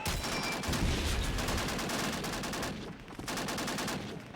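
Sustained MG-42 machine gun fire in the World War II shooter Call of Duty 2, a dense, continuous roar of rapid shots with a brief dip near the end before the firing resumes.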